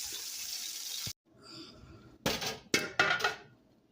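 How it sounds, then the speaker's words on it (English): Water pours from a tap into a pot of browned chicken pieces, a steady splashing rush that stops abruptly, followed by bursts of running water and light clinks of the pot. "right now I added the water to the chicken and I'm going to let this boil"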